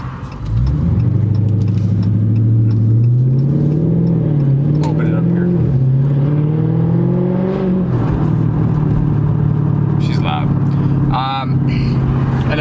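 A Dodge Charger Scat Pack with its mid muffler deleted accelerates hard, its loud, deep exhaust note climbing steadily in pitch through the gear for several seconds, dropping briefly at a shift, then droning on at high volume.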